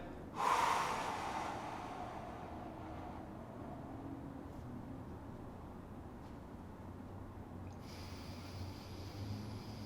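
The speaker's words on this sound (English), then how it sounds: "So what you can do is you can just exhale." A breathing exercise: one strong, close breath rushes out near the start and then tapers into a long, soft exhale over a low steady room hum.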